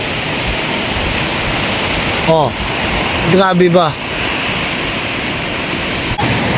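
Steady roaring surf fills the scene, waves washing continuously nearby, with a brief voice speaking and a whistling sound over it.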